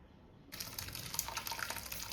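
Curdled milk is poured through a strainer to separate fresh paneer from the whey: a soft, steady splashing stream that starts abruptly after a brief quiet moment, fairly faint and close.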